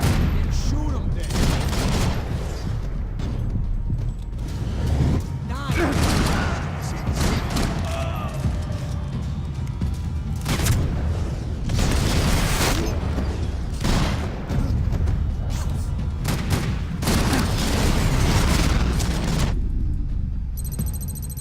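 Gunfire in the video game Max Payne 3 at the docks: repeated bursts of loud shots and booming impacts spread throughout, dense volleys alternating with short gaps, with game sounds underneath.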